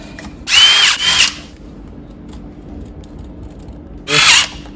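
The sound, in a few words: power drill screwing parts back onto RC truck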